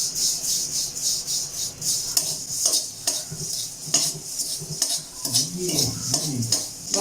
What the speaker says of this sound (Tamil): வாணலியை சூடு பண்ணிவிட்டு அதில் இந்த அவல் போட்டுக்கலாம்.